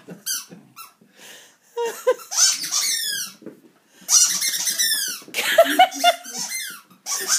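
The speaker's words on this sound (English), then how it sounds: "Oh, the carrot squeak." A squeaky carrot dog toy being chewed by a Lucas terrier, giving repeated high, rapid squeaks in bursts close by, with some panting and rustling between them.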